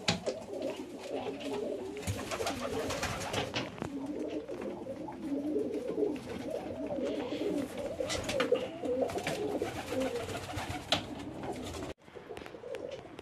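Ornamental pigeons coo repeatedly in an aviary, with overlapping soft throaty calls close by and some rustling and wing flutters. Near the end the sound briefly drops out.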